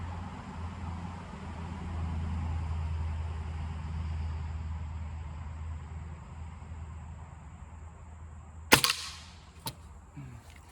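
Crosman F4 air rifle fires a heavy 10.7-grain pellet at 20 yards: after a long stretch of quiet background hum, one sharp loud crack rings out, followed by a fainter smack and small knocks.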